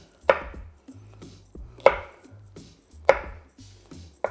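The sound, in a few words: knife cutting food into pieces on a board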